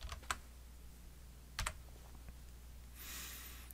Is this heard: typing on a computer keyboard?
yes